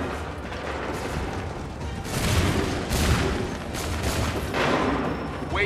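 Rolling musket volleys from Assassin's Creed 3, several heavy bursts of massed gunfire with clattering mechanical noise, loud and close with booming reports cresting around each volley.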